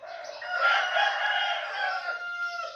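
A rooster crows in a long, drawn-out call, with hens clucking alongside it. The birds sound fairly close and steady throughout.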